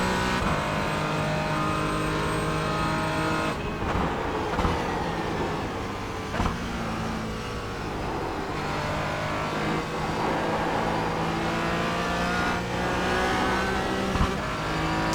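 Porsche Cayman GT4 racing around Sebring in iRacing, its engine droning steadily with harmonic pitch sweeps as it brakes and accelerates through corners, loud and continuous with occasional tire noise and no talking.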